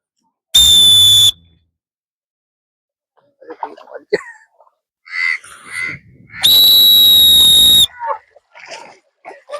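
Two loud, shrill referee whistle blasts start a race at Onam festival games, a short one and then a longer one, with scattered voices and chatter in between.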